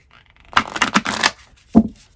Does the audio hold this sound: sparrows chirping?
no